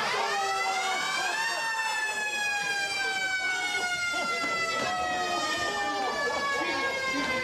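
A loud siren wails continuously, its pitch rising and falling in long sweeping cycles, close and unbroken throughout.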